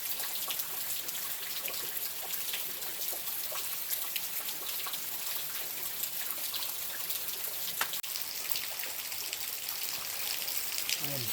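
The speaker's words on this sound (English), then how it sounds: "It is still raining." Steady rain patters on a backpacking campsite in Big South Fork, Tennessee, a dense, even hiss of drops with occasional closer taps, continuous and fairly soft throughout.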